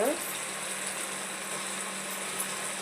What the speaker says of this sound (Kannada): ಕ್ಯಾರೆಟನ್ನು ಸ್ವಲ್ಪ ಸಾಫ್ಟ್ ಆಗೋ ಥರ ಫ್ರೈ ಮಾಡ್ಕೋಬೇಕು